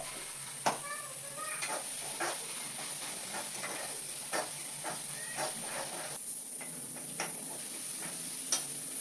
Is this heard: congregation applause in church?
no